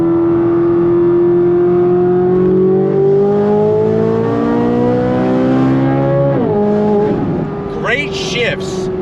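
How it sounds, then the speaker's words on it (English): A Chevrolet C8 Corvette Z06 V8 engine revs hard, pitch climbing through the gears with a sharp shift, loud and close, ending in a rapid high whine. "Love the sound of that engine."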